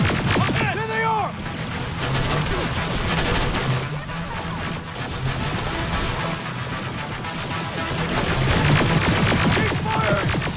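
Dense, sustained automatic gunfire and explosions from a firefight in the game Terminator Resistance fill the whole stretch loudly, with voices shouting over the shooting.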